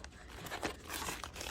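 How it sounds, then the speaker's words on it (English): Plastic bags crinkling and tearing while being handled during a box unboxing, a steady close, crackly rustle lasting throughout with small bursts of tearing. "Looks like we have some plastic bags."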